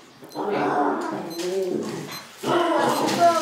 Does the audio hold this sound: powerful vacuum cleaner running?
no